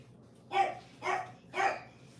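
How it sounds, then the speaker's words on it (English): A dog barks three times at an even pace, the loud, clear barks coming from indoors in a home kitchen with no voices over them. "He's barking."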